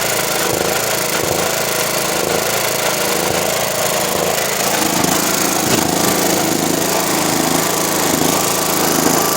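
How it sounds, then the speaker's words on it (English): A GX75 mower engine runs with a fault, its RPM hunting up and down. It is a loud, close, continuous roar with slight rises and falls in tone throughout. "It's starting to hog in RPM, going up and down."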